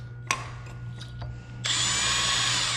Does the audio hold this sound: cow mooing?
no